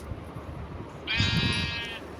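A sheep in the Minecraft video game gives one clear, drawn-out bleat lasting under a second. It rises out of a low, steady background of in-game ambience and is heard alone, with no talk.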